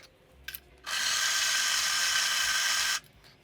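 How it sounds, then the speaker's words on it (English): Coffee grinder on an espresso setup grinding beans for a double shot, a loud steady high whir lasting about two seconds that starts and stops sharply, preceded by a couple of small clicks. "You're going to hear the grinder, but you ain't going to see it, because this thing is really fast."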